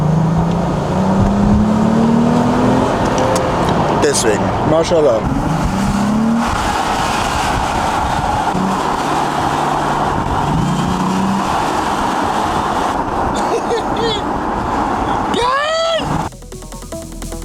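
A car engine rumbles in Los Angeles, a steady loud droning hum through the whole stretch while voices chat over it, ending with a slight drop in level.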